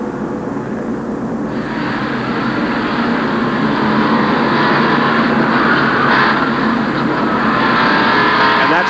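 Onboard sound from inside Alan Kulwicki's Ford Thunderbird NASCAR Winston Cup race car at the 1988 TranSouth 500 during a crash: a loud, unbroken engine roar with rushing wind noise and harsh, grinding texture throughout.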